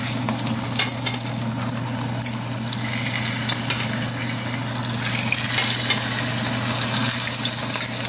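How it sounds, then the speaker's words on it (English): Potatoes fry in hot oil for Aloo Nazakat, with a steady, dense sizzle and crackle that holds throughout at close range and no talking. "I'll fry the potatoes"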